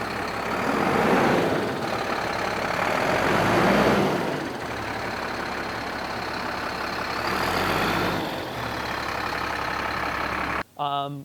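A rear-radiator Cummins ISC 8.3 liter diesel idles in a 2000 Monaco Diplomat motorhome, a steady low rumble with slowly swelling surges, while a person talks over it and a short beep sounds near the end.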